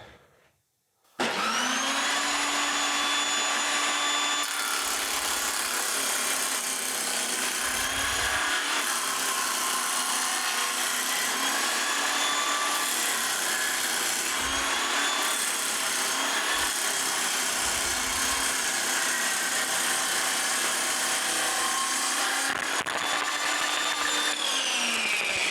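A table saw cutting wood in a woodworking shop. It spins up sharply after a moment of silence, then runs as a loud, steady, close whine with a broad roar for over twenty seconds before easing slightly near the end.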